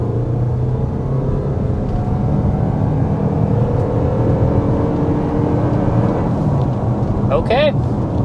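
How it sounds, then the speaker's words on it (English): A 2026 Toyota RAV4 XLE accelerates to 60 mph on a test drive, a steady loud cabin drone of engine and road noise building gradually, with a short voice near the end. "that was 60 miles per hour with this 2026 RAV4"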